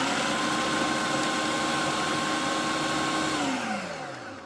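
A kitchen blender pulses a coconut mixture with cardamom powder, its motor whirring steadily and loud for about three seconds before winding down as the pulse ends.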